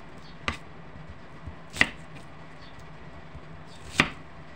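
A knife slices through an onion on a board in three sharp, separate chops spaced about a second or two apart, crisp and close against a quiet background.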